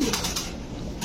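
Big-sized pigeons at a pigeon farm give a brief soft cooing over a busy background of rustling and low murmur, close and short.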